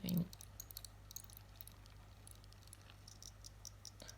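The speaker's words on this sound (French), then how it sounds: "Les grillons." Crickets shuffle and scramble inside a warmed egg-laying box, giving faint, scattered dry ticks and scratchy patter over a steady low hum, with one brief louder knock at the start.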